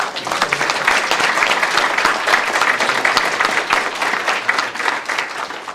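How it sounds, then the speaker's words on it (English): An audience at a public talk on nuclear power applauds the event organisers, a loud, lively round of clapping held steady for several seconds. "So a big round of applause for them."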